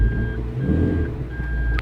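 A Toyota MR2 Roadster in reverse gear sounds a steady high-pitched reversing beep repeating in short pulses over a low engine idle, close by and clear.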